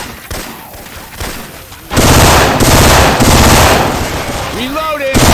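Syphon Filter weapon sounds modded into Left 4 Dead 2 fire softly at first, then erupt into a loud, dense, sustained burst of rapid gunfire; a brief character voice is heard near the end.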